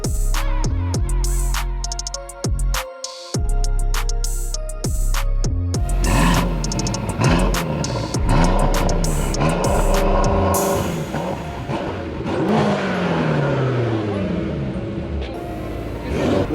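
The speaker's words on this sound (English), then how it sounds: "they've put Range Rover SVR exhaust on a BMW M5" BMW M5 fitted with a Range Rover SVR exhaust, revving hard nearby: loud rumbling blips and rising engine roars through the exhaust, sustained and close, with no talking.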